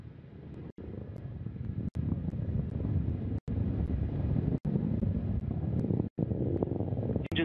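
A steady, deep broadband roar of rocket engines comes from the first stage of Northrop Grumman's Cygnus-15 launch from an island in Virginia, heard from a distance, with a few brief dropouts.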